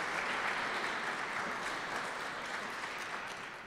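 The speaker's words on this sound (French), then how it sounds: "Puis vous auriez le droit d'applaudir à ce moment-là." Audience at an International Francophonie Day event applauding, a dense steady wash of clapping that holds for several seconds and fades slightly at the end, with no voices over it.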